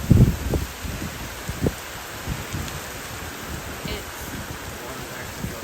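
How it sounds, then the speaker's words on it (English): Heavy rain pouring down with gusting wind during Hurricane Milton, a steady dense wash of noise with a few louder bumps and rustles near the start, under occasional faint talk. "the wind is like really picking up. The rain is really coming down."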